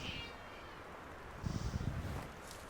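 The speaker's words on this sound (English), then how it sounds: "it's my kitty. She's awake." A pet cat gives a faint meow, then a short rustling scuffle, heard quietly against a soft windy background.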